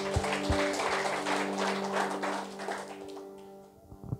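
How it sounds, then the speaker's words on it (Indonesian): A church congregation at a Christmas service claps hands together over a sustained organ or keyboard chord. The clapping is dense and steady, then thins out as the music fades near the end. "tepuk tangan buat Tuhan"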